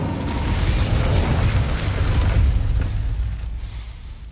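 A fire spell from the Hogwarts video game bursts into a loud, rumbling explosion that swells and holds for a few seconds before slowly fading, with no voices over it.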